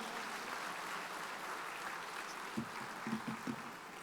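Applause from the audience at an Indian Union Budget 2025 event, honoring HP Rana, a faint, even wash of clapping from a crowd heard at a distance, with a few sharper low knocks near the end.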